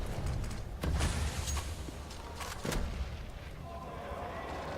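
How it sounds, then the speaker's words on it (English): A grenade detonates in CS:GO on the Mirage map during a Virtus.Pro versus eXtatus match, with two heavy booms a couple of seconds apart amid rumbling gameplay noise and no talk. "Yeah, grenade kill on Sedco."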